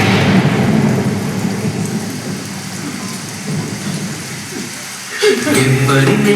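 Heavy rain pours steadily while low thunder rumbles, with a sharper crack of thunder near the end.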